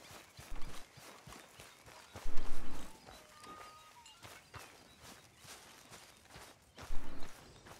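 Horse hooves clip-clop at a walk in Red Dead Redemption 2, an irregular run of close, light hoof steps with a few heavier thuds mixed in, no voices heard.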